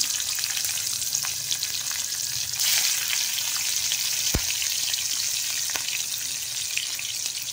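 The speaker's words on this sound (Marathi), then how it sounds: "तर मी लसूण टाकते ठेचलेली आणि हिरवी मिरची" Crushed garlic and green chillies sizzle in hot oil with a pinch of asafoetida in a kadai, a steady dense frying hiss that swells briefly midway, with a single sharp click; no talking.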